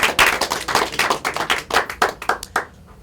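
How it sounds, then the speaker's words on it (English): Audience clapping in a mentalism stage show as a volunteer named Rodney is welcomed up, loud, close and uneven, with bursts of hand claps that thin out and fade near the end. "Give Rodney a round of applause."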